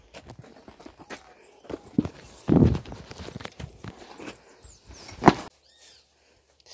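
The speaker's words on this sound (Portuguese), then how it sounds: "O Rodrigo vai colocar a sela nela agora, aqui, ó." A young mare being saddled after a vaquejada, with scattered hoof clops and shuffling steps on the ground and a few thumps of tack. The sounds are close, irregular and fairly soft.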